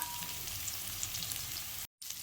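Garlic and chopped taro leaves sizzle steadily in a hot pan, a dense continuous frying hiss with faint stirring, broken by one brief dropout near the end.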